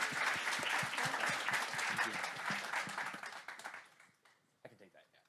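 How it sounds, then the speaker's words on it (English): Applause from an audience after a talk during an event, dense clapping lasting about four seconds before fading out, followed by brief faint voices. "Please give another round of applause."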